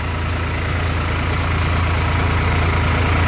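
An Indo Farm 3048 DI tractor fitted with cage wheels for muddy field work idles steadily, its low diesel rumble pulsing evenly and loud throughout, with no talk over it.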